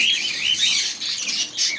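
Pet budgerigars and finches in a bird shop chirp and twitter in a dense, continuous chorus of high, bright calls, close and fairly loud, with no voices over them.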